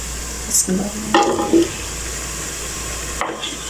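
Whole spices and potato pieces fry in hot oil, a low steady sizzle under a few stirring knocks and clatters of a utensil against the pot, close by.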